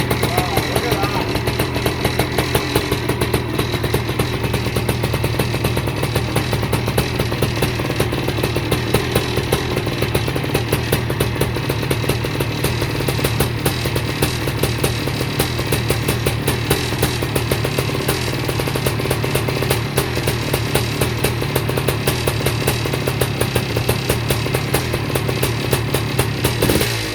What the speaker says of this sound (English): The bike fired up in basically the first kick.